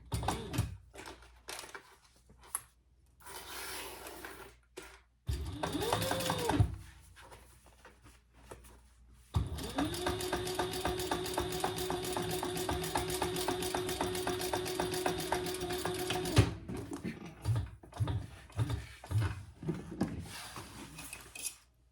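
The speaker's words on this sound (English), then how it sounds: "top stitch on your gusset side" A sewing machine top stitches the gusset side of a crossbody bag in a long steady run, preceded by shorter stop-start bursts and handling clicks, close and moderate in level.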